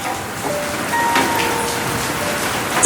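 Heavy rain pours steadily as a story sound effect, a dense, loud, continuous hiss of drops hitting surfaces with no voices.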